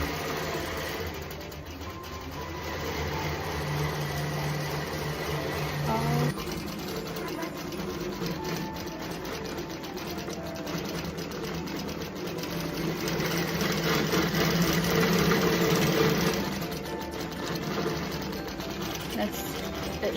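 An embroidery machine stitches out a quilted holiday stocking with a steady, loud mechanical whir and rapid rhythmic needle pulses that run throughout, swelling slightly near the end, with muffled voices in the background.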